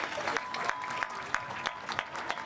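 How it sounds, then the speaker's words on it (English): Scattered applause from a small audience at an Italian flag-raising ceremony, faint and thin, with a few sharper individual claps standing out over soft background murmur. "Let's give them a round of applause"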